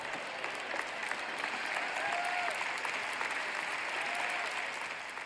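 Audience at a Christian teaching event breaking into applause, a steady mid-level patter of many hands clapping that holds for several seconds, slightly distant, with no one speaking over it.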